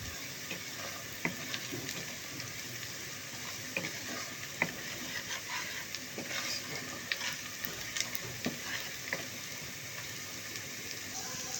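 Spicy onions and added spices sizzling in a pan while cooking Bangladeshi khichuri, a continuous crackling fry broken by scattered stirring clicks and scrapes, no voices.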